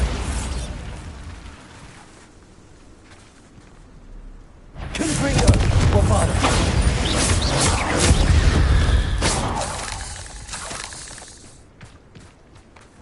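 Bombarda and Confringo explosion spells cast in Hogwarts Legacy burst out as one long, loud blast, a rolling explosive roar that builds and then fades. A voice speaks the spell names around it.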